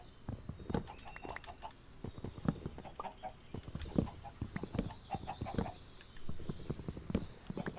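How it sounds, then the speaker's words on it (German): Chickens in a pen cluck repeatedly in Minecraft, soft blocky clucks scattered irregularly over several seconds while people talk casually over them. "Die Hühnchen, die sind doch da, da drüben in dem anderen Gehege da"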